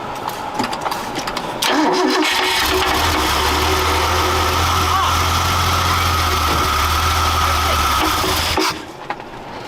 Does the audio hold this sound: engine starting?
yes